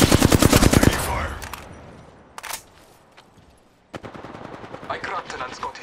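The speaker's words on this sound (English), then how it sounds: "I am taking fire." Apex Legends gunfire: a loud, rapid burst of automatic shots opens, followed by scattered single reports and another run of quicker fire toward the end.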